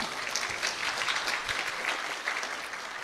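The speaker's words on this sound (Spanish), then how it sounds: "a quien lo recibimos con un fuerte voto de aplausos." Brief, moderately quiet applause from an audience at a constitutional law discussion event, greeting a magistrate of Peru's Constitutional Tribunal with even, steady clapping.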